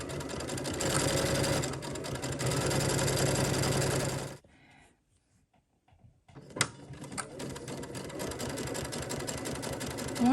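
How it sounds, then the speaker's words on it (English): A sewing machine fitted with a 1/8 inch guide foot top stitches fabric, running in a fast steady whir for about four seconds, pausing in near silence, then starting again with a click and running on. "using the 1/8 inch guide on the toe here, we're going to use it to top stitch the fabric"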